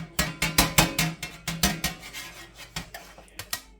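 Food slid from a frying pan onto another pan on the stove, giving a run of clattering metallic knocks and scrapes, roughly a dozen close, fairly loud hits that grow sparser and quieter toward the end.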